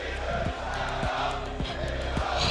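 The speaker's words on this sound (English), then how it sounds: "This crowd is so ready for it." Esports arena crowd at a Counter-Strike pro league grand final, a loud, continuous roar of cheering with repeated rhythmic thumps, like stomping or clapping, beating steadily through it.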